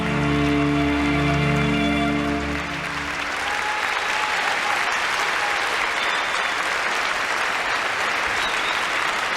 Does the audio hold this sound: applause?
yes